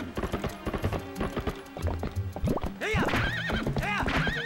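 A horse in the video game Zelda Twilight Princess gives a loud, close whinny over clopping hooves and game music, with a second whinny following near the end.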